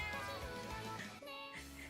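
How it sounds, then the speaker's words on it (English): A big pet cat named Potato gives a couple of drawn-out meows nearby, fairly quiet indoors. "That's a cat."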